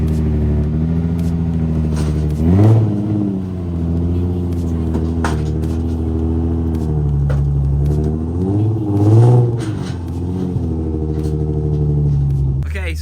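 A Nissan 350Z engine idles with a deep, steady rumble, revving up briefly twice, close by and loud, with some light clatter.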